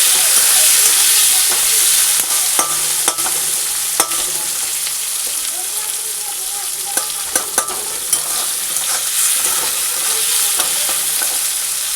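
Soft, tender young jackfruit fries with onion in a pan, with a loud, continuous close sizzle broken by sharp spatula taps and scrapes against the metal.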